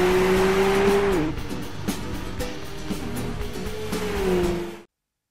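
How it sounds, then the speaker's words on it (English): A racing car in the video game Gran Turismo 5 revs with a sustained engine whine, shifts down and carries on under a tire squeal, then the sound cuts off abruptly. "the number 1 car game is Gran Turismo 5"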